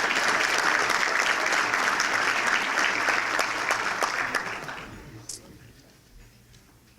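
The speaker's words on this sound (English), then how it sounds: "So let's have a round of applause for all of them." A chamber of commerce breakfast audience applauds steadily for about five seconds, the clapping dense and loud before it thins out and fades to scattered claps.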